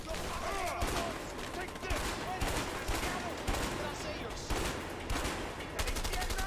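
Gunfire in the video game A Way Out, repeated loud bursts and volleys of shots in uneven clusters, with voices talking over the shooting.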